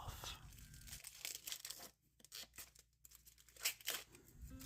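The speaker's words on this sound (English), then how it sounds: "I take this little Cricut tool, peel back a corner, and then get the rest off." Vinyl backing peeled off with a small Cricut tool, close crinkly tearing and crackling in uneven bursts with brief pauses, fairly quiet and with no talking.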